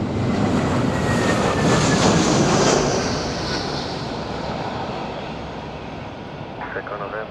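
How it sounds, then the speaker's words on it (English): An EasyJet airliner lines up on the runway at Madeira airport, its engines giving a loud, steady, broad roar close by that slowly eases off over several seconds. "We have EasyJet lining up to Porto."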